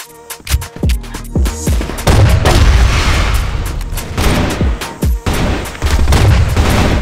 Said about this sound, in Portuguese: deu um tiro a queima-roupa no cara